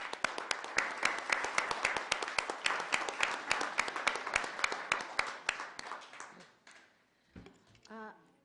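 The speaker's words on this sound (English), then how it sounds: "Let's give them some applause." An audience at a Stockton City Council District 3 candidate forum claps loudly and steadily for about six seconds, then the applause tapers off and a voice briefly speaks.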